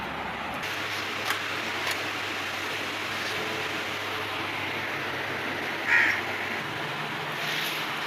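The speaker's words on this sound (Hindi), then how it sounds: "सुबह सुबह कौवे भी आए हुए हैं नाश्ता करने के लिए" Crows caw in the morning near a home, several harsh calls spaced apart at a moderate distance over a steady hiss of outdoor ambience.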